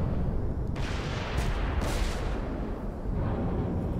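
Heavy rumbling explosions in a Sonic video game, a dense continuous roar of booms with a few sharper blasts breaking through, loud and close with no talking.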